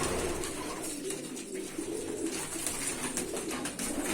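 Pigeons cooing in a loft where young birds have hatched, soft repeated coos over a constant busy background of other birds, fairly close, with no talk.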